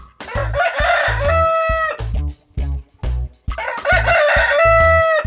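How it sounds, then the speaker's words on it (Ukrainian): A rooster crows twice in succession, each call a loud, drawn-out cock-a-doodle-doo with a rising start and a long held ending, heard close and clear, with no talk over it, in a farm-animal setting. "То є петав."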